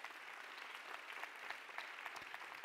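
A conference audience applauds, a quiet but steady crackle of many hands clapping evenly, with no speech over it.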